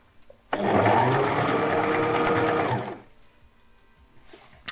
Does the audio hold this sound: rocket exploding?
no